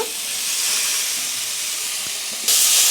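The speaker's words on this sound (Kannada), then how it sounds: "ಟೊಮೊಟೊ ಮೆತ್ತಗಾಗೋವರೆಗೂ ಹುರ್ಕೊಳ್ಳೋಣ" Chopped tomatoes fry in hot oil with garlic and turmeric for a liver pepper fry, giving a steady, loud hiss that swells suddenly near the end, with no voices over it.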